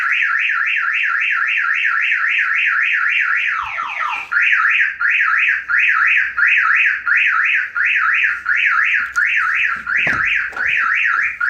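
Car alarm on a Miata going off after a jump-start attempt, a loud warbling siren cycling steadily and close, shifting to a pulsed on-off pattern partway through, with no talking.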